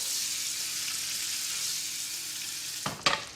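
Butter sizzling in a hot pan as it heats for breadcrumbs and dill, a steady broad frying hiss throughout with a couple of brief louder crackles near the end.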